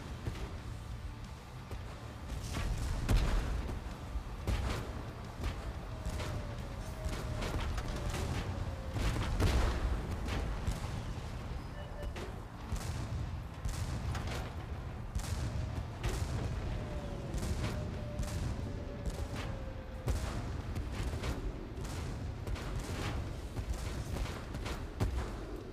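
Tank gunfire and explosions in the video game Tank Force on a Trafalgar Square map, repeated booming shots and blasts over a continuous rumbling engine and battle din.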